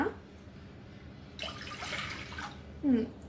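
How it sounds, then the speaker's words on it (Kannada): Water pours into a cooking pan to start syrup for rasmalai, a single splashing pour lasting about a second over a quiet kitchen background. "ನೀರು ಹಾಕ್ಕೊಂಡು"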